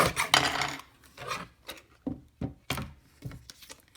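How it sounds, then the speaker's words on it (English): Card stock paper being trimmed with a cutter, a series of short scraping slides and rasps in a loose rhythm, close and quiet, with no talk. "I cut this one too big, so I'm going to trim this one down"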